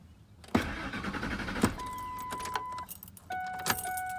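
A 1999 Ford F-150 with a weak fuel pump turns over and starts, sharp clunks and a rough engine rumble alongside dashboard chimes and tones, close and fairly quiet with no talking.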